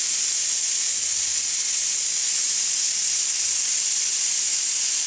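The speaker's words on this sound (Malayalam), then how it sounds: "മൂന്ന് വിസിലിന് ശേഷം ഞാൻ ഈ കുക്കർ ഓഫ് ചെയ്തിട്ടിട്ടുണ്ട്" Steam hisses steadily and loudly from a pressure cooker cooking moong dal masala khichdi over a medium flame, a continuous bright rush with no breaks or pauses.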